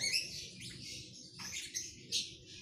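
A baby bird chirps in quick, high, thin calls during a training session, several short bursts close by and fairly faint, with no talk over them.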